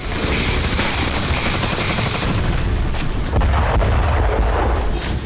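Continuous heavy blasts and gunfire-like booms from wartime explosions in Ukraine rumble without letup, dense and loud, with a sharper burst near the end.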